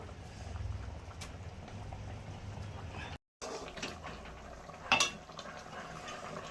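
A thin fish curry of small carp with cauliflower and potato simmering in a pot, heard as a quiet, steady bubbling hiss with a short break and one louder clatter near the end.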